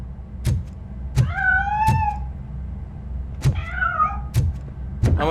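A cat meows twice in the video game RoboCop Rogue City, each meow a clear rising-then-falling cry, with dull thumps and footfalls around them.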